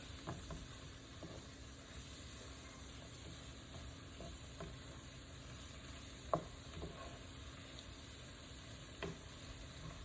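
Seasoning is stirred into a pot of crawfish etouffee: a faint, steady simmering hiss with a few soft spoon taps against the pot.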